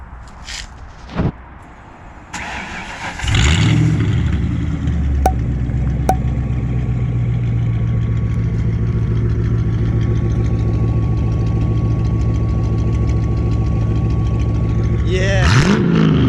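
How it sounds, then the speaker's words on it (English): A car with a no-muffler exhaust cranks and fires up, then revs and settles into a loud, rough, sustained drone. Voices talk over it near the start and again near the end. "He just asked me to rev his car because you want to hear it from the back."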